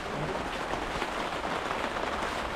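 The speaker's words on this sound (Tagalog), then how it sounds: "Umuulan." Steady heavy rain hisses evenly throughout, a dense wash of falling drops with no pauses and no voices.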